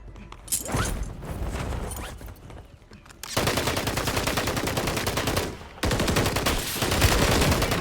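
Dense gunfire from the Warzone video game comes in sustained rapid automatic bursts, loud and close, with short pauses and fainter shots between them.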